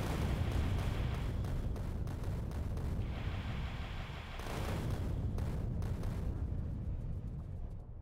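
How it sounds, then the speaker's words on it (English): A Spidertron in a video game fires a rocket barrage at biters, making a steady, dense roar of rumbling blasts that runs throughout at a faint, distant level. "it's time to take the Spidertron out and do what it's good at, firing a barrage of rockets at biters"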